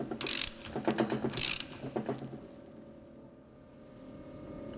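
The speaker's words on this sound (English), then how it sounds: "Using the bush replacement tool, wind in the bush until it stops." A bush replacement tool winds a new bush into a Meritor axle housing, giving a few quick ratcheting, clicking mechanical bursts up close before settling into a faint steady hum.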